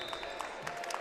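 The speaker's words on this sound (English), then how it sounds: "So gets a round of applause from the people in the audience." An audience claps at a wrestling event, a brief, moderate patter of many hands heard from a distance with no talking.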